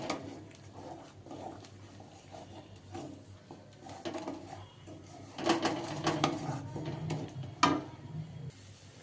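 Brinjal and potato pieces are stirred and roasted with spices in a pan, a spoon scraping and clattering irregularly against the metal, mostly soft with a denser, louder stretch of knocks near the end.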